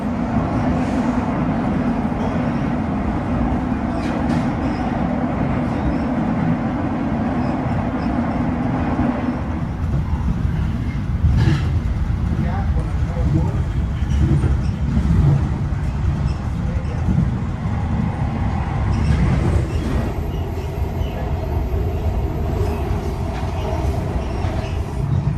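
A MARTA metro train runs from Atlanta airport toward downtown on the old line. Steady, loud onboard rumble and wheel noise continue throughout, with shifts in tone as the train moves and brief higher squeals near the end.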